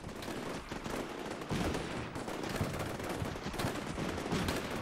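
Machine guns fire in the video game Combat Mission Shock Force 2, a fairly quiet, dense crackle of overlapping bursts that keeps rolling without a break, sounding somewhat distant.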